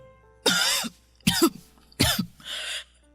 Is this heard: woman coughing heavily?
yes